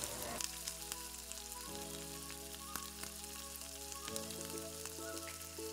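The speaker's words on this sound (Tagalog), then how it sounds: "Ilagay na po natin ang ating piniritong liempo kanina." Fried pork belly (liempo) sizzles in a pan with onions while spicy adobo cooks, a steady close frying hiss that runs the whole time, with light stirring and a faint musical background underneath.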